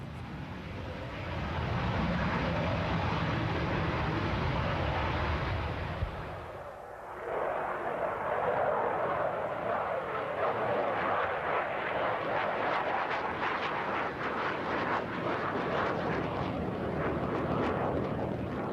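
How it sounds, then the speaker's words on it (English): A MiG E-155 prototype jet, forerunner of the MiG-25, roars in flight on archival film, a loud, rough broadband engine rumble that cuts out briefly midway, then returns and continues steadily. "It is the first flight of the E-155, the prototype of what was to become the MiG-25."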